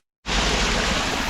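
Waterfall water roaring steadily after a sudden start, a dense, loud, continuous rush that fills the whole clip with no break.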